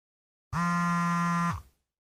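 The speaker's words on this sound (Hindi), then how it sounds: "तुम्हारा फोन बज रहा है।" A single steady electronic tone rings out for about a second, buzzy and clear, then cuts off, like a phone ringing once.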